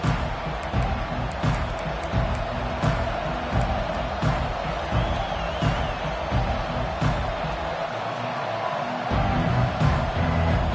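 A stadium crowd at a Nebraska vs Arizona college football game keeps up a steady, loud roar through the whole stretch, with scattered shouts and claps rising above it.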